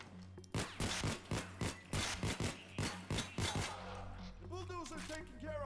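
Single-fire gunshots from a weapon in the video game PAYDAY 2, a rapid rhythmic series of about sixteen sharp, loud, evenly spaced shots, followed by someone talking.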